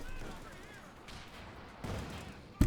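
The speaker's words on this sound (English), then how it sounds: "And a bazooka on them as well" Bazooka and grenade fire in the World War II strategy game Company of Heroes 2: muffled distant booms and gunfire build to one sharp, loud blast at the very end.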